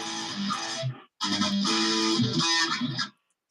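Distorted electric guitar played through a phone speaker: two loud, buzzy sustained phrases with a brief gap between them, ending abruptly in silence.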